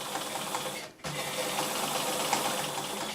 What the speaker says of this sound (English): And a little back stitch to finish to lock that in place.